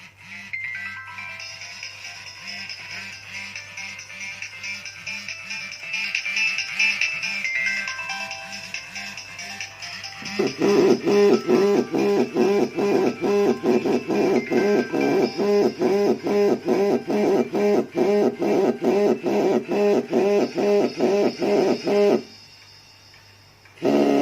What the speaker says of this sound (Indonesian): Kita akan coba ke ringtone-nya dulu.